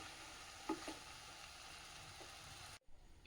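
Chow chow (chayote) thoran cooking covered over a medium flame in a pan, giving a quiet, steady sizzle with a couple of faint clinks, then a brief drop to near silence before the hiss resumes.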